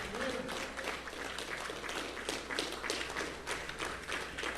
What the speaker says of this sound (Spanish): Vamos a darle un aplauso al Señor Jesucristo.